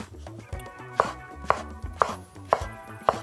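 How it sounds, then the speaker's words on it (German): Knife slicing mango flesh into strips on a cutting board: five or six evenly spaced, crisp knocks of the blade hitting the board, close and clear over a soft music bed, with no voices. "Und auch hier holen wir erstmal das Fruchtfleisch raus. Und schneiden es in Streifen."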